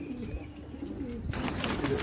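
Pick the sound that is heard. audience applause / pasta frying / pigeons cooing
pigeons cooing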